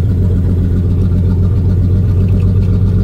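A car engine idling while warming up, a loud, close, steady low rumble with an even pulsing throb throughout and no other sounds.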